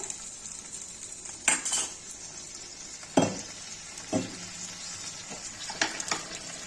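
Fish frying with spices in a pan for Bengali fish curry, a steady close sizzle broken by a few sharp clinks and scrapes of a stirring utensil against the pan, with no voices.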